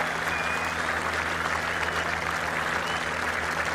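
A golf crowd at The Open at Royal Liverpool, 2014 final round, applauds steadily with dense, continuous clapping and cheering that holds an even loudness throughout.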